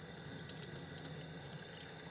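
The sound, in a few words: running a stuck lid under hot tap water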